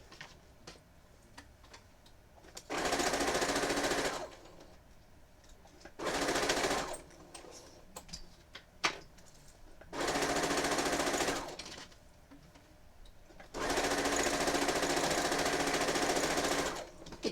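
A sewing machine stitches Pixel Eater Pac-Man and Tetris quilt pieces together in four loud, steady bursts of rapid mechanical running, each lasting one to two seconds, separated by quieter pauses.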